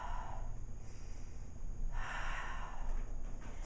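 Steady breathing during a prenatal Pilates core exercise, with a long, close, airy exhale and a soft breathy rush as the breath is pushed out.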